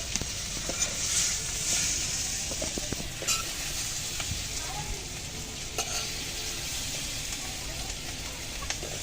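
Vegetables fry in a kadai with a continuous crackling sizzle, broken by repeated scrapes and clinks of stirring, close and fairly even throughout.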